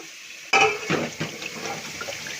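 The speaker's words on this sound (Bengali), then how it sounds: "প্রেশারটা একটু ধুয়ে রেখে দিই" Tap water suddenly gushes and splashes inside a metal pressure cooker, with clattering knocks as it is rinsed, running water continuing steadily.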